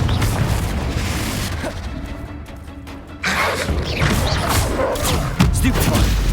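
Confringo fire spell explosion in Hogwarts Legacy: loud, booming blasts and crashing impacts in a busy combat scene, with a sharp new burst midway and another hit near the end, mixed with voices.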